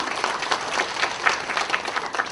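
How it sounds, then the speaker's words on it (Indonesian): A seminar crowd applauds steadily, dense clapping rising and falling slightly in waves, fairly loud and with no talking over it. "saya mohon tepuk tangannya"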